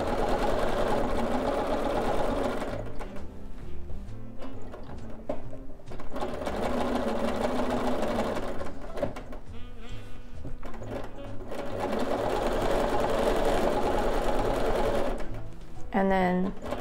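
A sewing machine quilts along the edge of a collage quilt, its fast buzzing stitch running in long bursts separated by short pauses, close and steady, with a person speaking intermittently over it.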